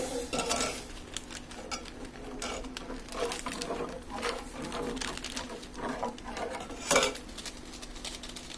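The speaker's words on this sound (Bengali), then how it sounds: "এখন আমরা এটাকে অনবরত নাড়াচাড়া করব" A utensil scrapes and clinks against a pot as chicken soup is stirred over and over, a busy run of metallic taps and scrapes at close range with one sharper knock partway through.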